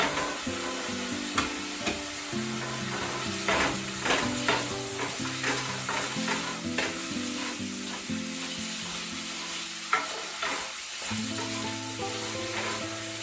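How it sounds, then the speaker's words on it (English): Vegetables for a vegan soup sauté in a pan, a close, continuous sizzle broken by repeated scraping and clanking stirs, loud and busy, with no one speaking. "So I'm going to saute it for 2 minutes"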